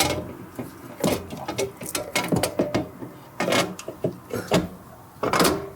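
Nuts being refitted by hand on a sunflower seed drill unit: a string of close metallic clicks, ratcheting and clunks in irregular bursts, with no talking.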